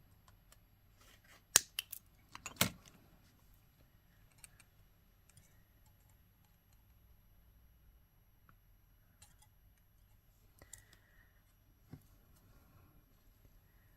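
Scissors snip beading thread during earring making, giving a couple of sharp, close clicks early on. Faint scattered ticks follow in otherwise quiet surroundings, with no talking.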